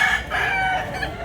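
A year-old, medium-sized rooster in Consolacion, Cebu crows once, loud and close, a ringing call that breaks into a few short bursts with no talk over it.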